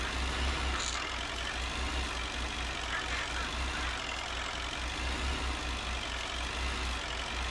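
A Fordson Major tractor engine runs steadily during hay making, a low continuous rumble with a constant drone that stays even throughout, no voices heard.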